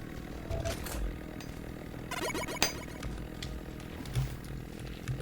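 A chainsaw runs as a melee weapon in the first-person shooter Duke Nukem Alien Armageddon, cutting into protozoid eggs. It gives a steady buzzing drone mixed with busy game noise, clinks and creature roars, with one sharp hit in the middle.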